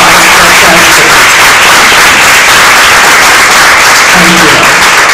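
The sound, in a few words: audience round of applause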